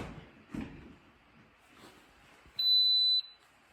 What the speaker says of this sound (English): It's gonna make a loud beeping noise, so be aware of that.